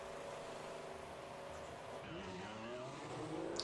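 Formula 1 car in the F1 2014 racing game pulling out of the pit lane at Sepang, a steady engine drone with rising pitch toward the end, under continuous commentary.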